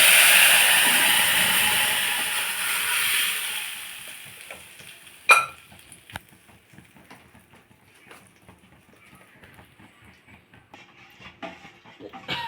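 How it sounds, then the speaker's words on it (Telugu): A dal tempering sizzles loudly in a hot pan with hing (asafoetida) added, a strong steady crackle for about four seconds, then a sharp clank and faint scattered pops as the frying dies down. "పప్పు తాలింపు వేస్తాం"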